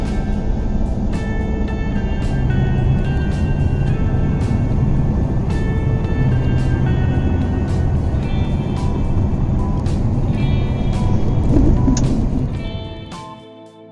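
A four-wheeler drives through green hills near Katra, Jammu, its engine and road rumble steady and loud throughout, then fading away at the end.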